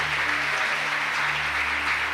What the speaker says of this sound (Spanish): Démosle fuerte ese aplauso al Señor